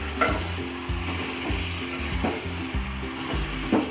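A potato biryani mixture is stirred in a hot pan, a spoon scraping in a repeated rhythm over a constant close sizzle, with no talking.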